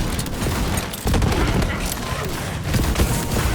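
Sticky grenade explosions in the video game Borderlands 3, a dense run of booms and gunfire-like bursts crowding together loudly and continuously over a few seconds, with no talk over them.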